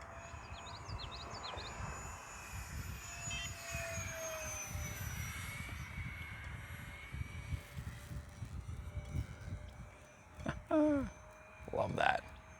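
An E-flite Habu STS 70mm electric ducted-fan RC jet flies overhead with a whining, rushing drone that rises and falls as it passes. Bursts of close talking sit over it.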